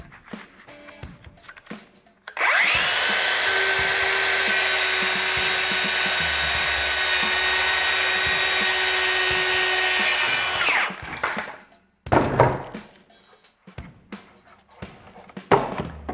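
DeWalt DCS570 cordless brushless circular saw cutting through melamine board, a loud sustained whine of about eight seconds under load, preceded and followed by handling clatter and short bursts of the motor spinning.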